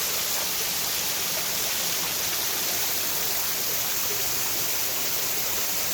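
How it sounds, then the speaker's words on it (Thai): Continuous broadband rushing of a waterfall, steady and even, with no voices or other sounds. "ผ่านน้ำตกที่มันกำลังไหล"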